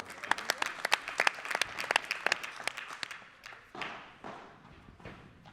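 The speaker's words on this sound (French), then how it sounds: "Je vous demande de l'applaudir très fort, Mario Ortega." Spectators at a padel tournament match in Bourg-en-Bresse clap steadily in a close, crisp burst of applause that tapers off into scattered claps and low crowd murmur.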